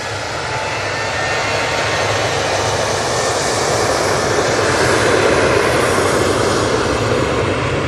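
A jet airliner landing at Manchester Airport, a loud, steady engine roar with broadband rushing noise that holds throughout the clip, with no speech over it.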